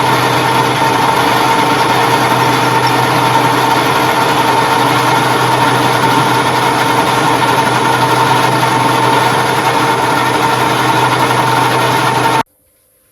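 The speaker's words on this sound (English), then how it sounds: "So we will set this up in the lathe now and face it off." A metal lathe faces off the end of a length of steel tubing, giving a loud, steady machine drone and whine that runs unbroken without talk, then cuts off abruptly near the end.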